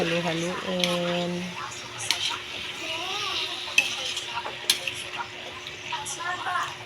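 Adobo sa gata being stirred in a pan, with soft spoon scrapes and light clinks against the metal over a faint simmer, while people talk throughout.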